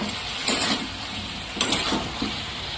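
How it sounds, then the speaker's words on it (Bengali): Mixed vegetables with chilli powder stir-frying in a pan, steady sizzling hiss broken by a few louder scraping stirs, close and alone without talk. "তারপরে আবার একটু ঘেটে তাকে অ্যাকচুয়ালি কষাতে হবে"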